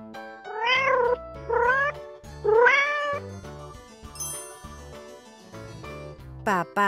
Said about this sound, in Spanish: Mamá gata.